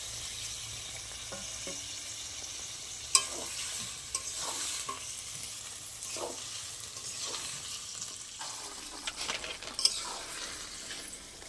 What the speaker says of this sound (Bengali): ভেজে রাখা মাছের মাথা দিয়ে দেবো।